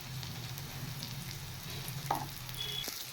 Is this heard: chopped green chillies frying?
yes